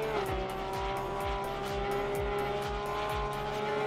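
A Porsche race car engine in Assetto Corsa Competizione whines at a steady high pitch, with repeated low thumps in a regular rhythm and no talking.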